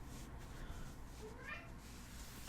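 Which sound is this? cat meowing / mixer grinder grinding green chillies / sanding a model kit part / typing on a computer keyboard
cat meowing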